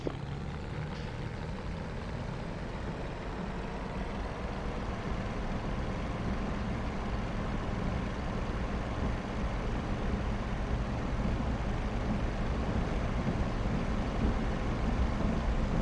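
A Bf109 fighter's piston engine throttles up for takeoff in the DCS combat flight simulator game, a dense steady roar that holds loud and unbroken throughout with no speech.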